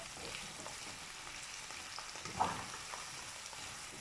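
Peppered gizzard sizzles steadily in a pan while being stirred, a continuous close frying hiss with soft scraping and one sharper clink near the middle, no voices.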